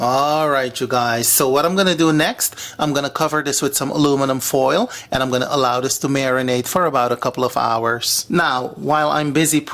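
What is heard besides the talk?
None of the usual background noises is heard.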